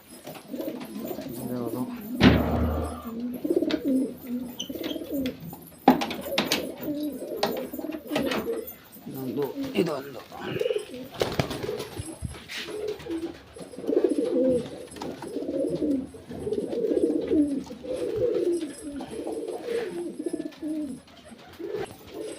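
Pigeons at a loft cooing repeatedly in soft, low, rolling calls, close and fairly loud, with a sharp knock early on and people talking intermittently in the background.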